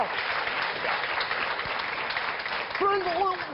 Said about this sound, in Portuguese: para quem peço um grande aplauso